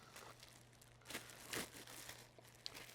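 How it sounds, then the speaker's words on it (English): Diesel fuel filters for an AirDog lift pump being unwrapped from their packaging, giving quiet, close crinkling and tearing of wrap with a few brief louder crackles and no talk. "We're going to unbox these or unwrap them."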